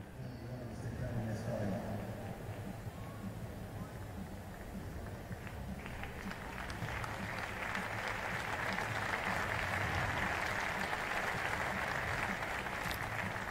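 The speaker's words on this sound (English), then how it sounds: "a generous applause for Finn Harrod from Team Highlander" Crowd applause rises in a velodrome at a national track cycling championship for a rider who has just finished, steady clapping building in the second half, mixed with general arena murmur and low rumble.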